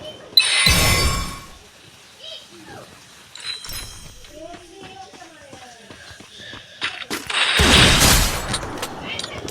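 Sniper rifle shots in a video game sound as two loud, sharp bursts with reverberant tails, one near the start and one near the end, with someone talking in between.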